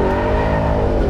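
A Ford Raptor R V8 pickup accelerates off-road in second gear with rear-wheel drive, a dense, loud, close engine roar held for a brief burst.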